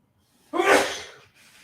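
One loud, abrupt sneeze erupts near the microphone, fading into a short breath afterward.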